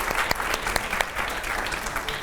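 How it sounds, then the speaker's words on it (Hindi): An audience at a live event with BJP MP Ravi Kishan gives vigorous applause, a dense, loud wash of clapping with sharp individual claps standing out, steady for the whole stretch. "जोरदार तालियां"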